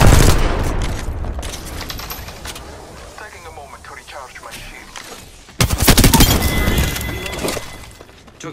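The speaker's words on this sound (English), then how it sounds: "Shots fired at me." Loud close gunfire from the Apex Legends battle royale on Storm Point, dense bursts fading to scattered shots, then a sharp renewed barrage around the midpoint, with in-game voice callouts mixed in.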